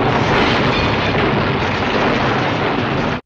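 A ship's fuel tank explodes in a film scene: a loud, sustained broadband roar of blast and rumble filling the whole three seconds, with no speech.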